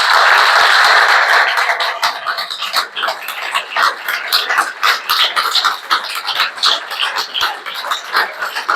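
An audience applauds warmly as the philosopher Raphaël Enthoven arrives at a talk. The clapping is thick and sustained, then thins into looser, uneven claps.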